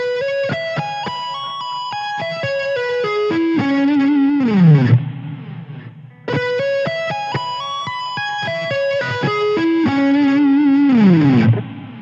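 Distorted electric guitar plays fast sweep-picked one-octave minor seventh arpeggios cascading up and down, in two similar phrases with a brief sustained chord between them.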